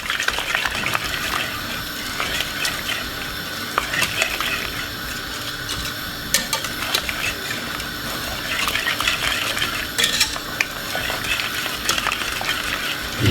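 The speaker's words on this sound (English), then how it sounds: "I'm just gonna get my whisk, give it a whisk like this" Whisk stirring a cheese sauce with milk in a pan, a steady close scraping and sloshing with quick metallic taps against the pot, continuing evenly for over ten seconds without talk.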